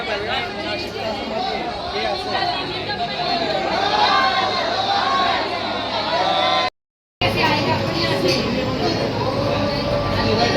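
A dense crowd of pilgrims at a temple in Ujjain, with continuous loud chatter and babble from many voices, briefly cut to silence once midway.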